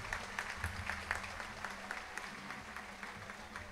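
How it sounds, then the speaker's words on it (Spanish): Applause for priests and seminarians of a diocesan seminary at a Mass, a steady wash of clapping from a gathered congregation, moderately faint and sustained throughout without a break. "Un aplauso para el Seminario Diocesano."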